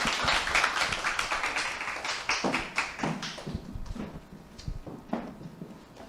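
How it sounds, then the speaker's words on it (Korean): Scattered clapping from a seated audience welcoming a speaker onto the stage at a corporate talk, uneven bursts of claps that thin out and fade over several seconds. "큰 박수로 모시도록 하겠습니다."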